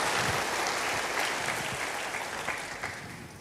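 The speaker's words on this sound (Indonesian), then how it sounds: "Yang bersukacita berikan tepuk tangan bagi Tuhan" A church congregation claps for God during a sermon on the thousand-year kingdom, a full, steady applause from a large room that tapers off slightly toward the end.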